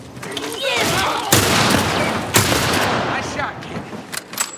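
Gunshots in the video game The Last of Us Part I: two sharp, loud cracks stand out over a dense layer of game noise, with smaller pops trailing off afterward.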